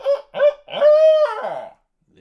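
Wild turkey shock gobble: a quick series of loud, rattling gobbles, three short bursts rolling into a longer warbling call before cutting off.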